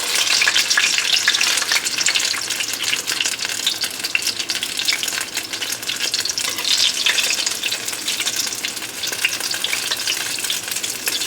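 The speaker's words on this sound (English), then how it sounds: "All right, time to fry these pierogis. Let's get them in. Now I'm going in olive oil." Pierogi fry in straight olive oil, giving a steady, loud, close-up sizzle and crackle that runs unbroken throughout with no talking.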